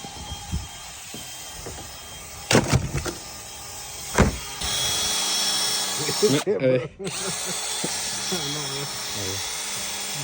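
A power tool whirs and grinds loudly in bursts, with sharp metallic scrapes and a person talking in between, grinding a new cutting edge on a BOSS DXT snow plow blade.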